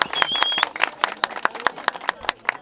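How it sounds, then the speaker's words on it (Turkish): Wedding guests at a Turkish engagement ceremony clap in a short burst of scattered, uneven handclaps, close and fairly loud, with a few voices underneath. "Alkış yapalım."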